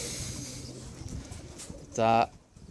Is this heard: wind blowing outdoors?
no